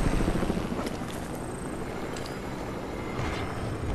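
A steady whirring helicopter in a video game, with a throbbing rotor pulse, loud and continuous, with no talking.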